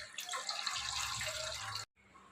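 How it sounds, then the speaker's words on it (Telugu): One litre of milk pours steadily into a pan on a stove in a continuous liquid gush that stops abruptly near the end, close and fairly quiet. "వన్ లీటర్ పాలు వేస్తున్నానండి నేను."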